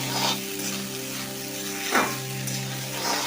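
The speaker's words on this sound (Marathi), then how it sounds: "असं व्यवस्थित सर्व बाजूने हलवून घ्यायचे पोहे बघा" Kande pohe (flattened rice) is stirred in a pan over a low flame, with a soft sizzle and light scraping strokes against a faint steady hum.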